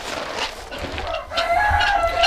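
Chickens and a rooster call in a pen, with mid-range crowing and clucking overlapping throughout, fairly close and steady, with a few sharper calls standing out near the end.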